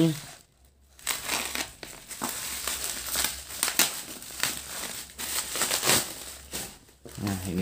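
A secondhand phone package being cut open for unboxing, with loud crinkling and tearing of plastic wrapping in repeated bursts, close up, while a person talks over it.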